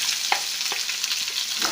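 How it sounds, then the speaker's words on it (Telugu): Thinly sliced onions and green chillies fry in hot oil with tempering seeds in a pan for okra tamarind stew, a steady soft sizzle broken by occasional stirring scrapes and pops, close and without talk. "సన్నగా తరిగి పెట్టుకున్నటువంటి ఆనియన్స్ని, పచ్చిమిరపకాయని వేసుకొని వేపుకోవాలండి"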